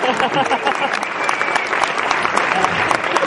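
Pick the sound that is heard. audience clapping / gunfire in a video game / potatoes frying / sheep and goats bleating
audience clapping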